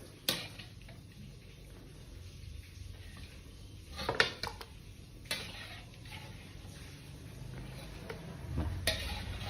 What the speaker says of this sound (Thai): มาครับตักใส่ถ้วยกัน